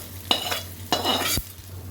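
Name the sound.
stirring palak chutney tempering in a pan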